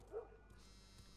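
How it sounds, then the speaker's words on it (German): A dog barks once, short and faint, in The Last of Us Part 1, with a low murmur of game ambience continuing after it. "Die Hunde schlagen an."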